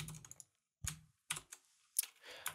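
Keys tapped on a computer keyboard while entering C# code, in a few short separate bursts with brief silent gaps between them, fairly close and quiet, with no talking over it.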